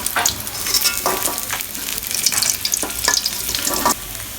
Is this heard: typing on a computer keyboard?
no